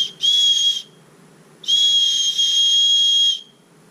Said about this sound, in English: This one even has the whistle.